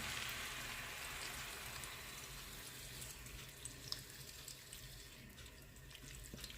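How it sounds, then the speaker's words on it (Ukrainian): Hot boiled water poured steadily into a pot of potatoes for a Georgian ojakhuri dish, a continuous close hiss and splash that eases slightly toward the end, with no talk. "Заливаємо тепер гарячою водичкою кипяченою."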